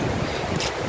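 Strong wind roaring through an old forest of tall spruce, a loud, dense, steady rush with no voices, brief and unbroken.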